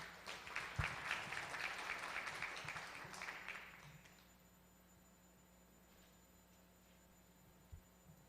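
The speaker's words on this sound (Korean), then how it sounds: "큰 박수로 환영해 주시기 바랍니다" An audience at a Korean women's peace ceremony claps for around four seconds to welcome a speaker. The applause then stops abruptly, leaving a quiet room with low electrical hum and an occasional faint knock.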